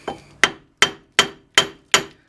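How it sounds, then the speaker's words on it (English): A hammer taps a bolt-on wheel bearing out of a steering knuckle, five sharp metallic strikes evenly spaced about a third of a second apart, loud and close, with no talking. "you're essentially trying to tap this wheel bearing out this way"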